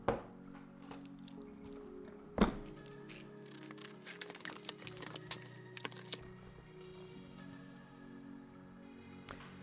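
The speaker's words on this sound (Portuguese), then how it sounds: "Vou tentar pelo menos passar para vocês como é que é escrever num teclado como estes Maya" Typing on a Varmilo Miya Pro mechanical keyboard: quiet, scattered key clicks and clacks at an uneven pace, with one louder thump early on, heard close up with no talking.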